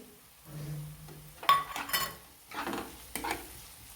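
Tomato and capsicum being sautéed in a pan for paneer ghotala, quiet intermittent bursts of sizzle and spatula scrapes with a few light clinks of utensil on metal, close by.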